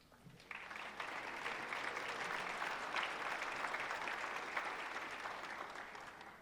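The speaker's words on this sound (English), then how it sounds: "if y'all could give them a round of applause as well" A round of applause for chamber board members at an economic outlook breakfast rises quickly and holds as even, steady clapping from a mid-sized crowd, heard at a distance and fairly soft.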